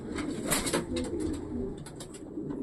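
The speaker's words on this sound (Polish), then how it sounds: "to są właśnie te gołębie" Several racing pigeons coo softly and repeatedly, low rolling calls overlapping at close range, with faint rustling in between.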